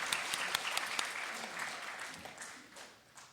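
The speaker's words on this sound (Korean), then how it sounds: "박수로 박수하십시오." A church congregation at a Sunday service claps in a steady, dense burst of applause that carries on for a few seconds and fades slightly toward the end.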